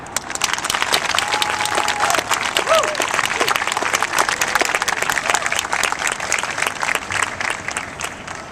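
An audience at a City Year opening day event applauds to welcome a speaker, a steady, loud, dense clapping that lasts throughout with a few whoops mixed in.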